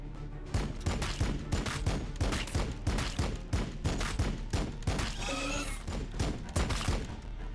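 A Warhammer 40,000: Battlesector land speeder opens fire in rapid sharp bursts, a steady rhythmic stream of shots with a brief whistling sweep near the end, close and prominent.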